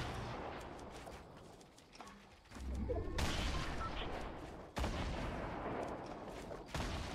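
Gunfire in the video game Fortnite: bursts of rapid shots and heavier booming blasts, fairly quiet, with a louder stretch in the middle and a sharp new volley near the end.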